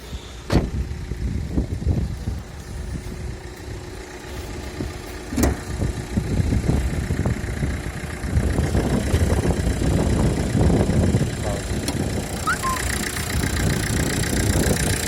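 A Renault Kangoo engine idles close by with a steady low hum, broken by a few sharp clicks and knocks from handling around the engine bay.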